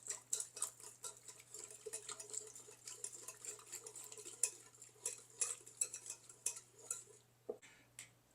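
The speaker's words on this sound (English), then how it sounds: "So we're going to break this sugar up. Just going to mix this all up really good." Brown sugar marinade stirred briskly in a bowl for flank steak hoagies, a quiet run of rapid clinking and scraping strokes that continues steadily throughout, close up, with no talk over it.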